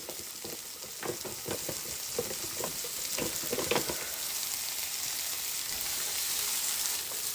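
Chopped ginger and garlic fry with onion in a pan, a steady close sizzle throughout with a run of scraping stirring strokes in the first four seconds, then continuous hissing alone.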